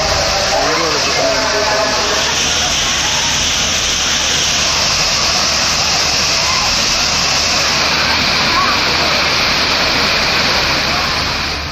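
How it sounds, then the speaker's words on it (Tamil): Roaring rush of the Thirparappu waterfall, where crowds of tourists bathe, forms a loud, steady broadband wash that fills the whole stretch without pause. "திருப்பரப்பு நீர்வீழ்ச்சியில் சுற்றுலா பயணிகளின் கூட்டம் அலைமோதியது"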